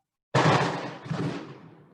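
A single loud, sharp firework blast from rojões going off outdoors, with a sudden broadband crack followed by a second burst and a long rumbling decay; no talking.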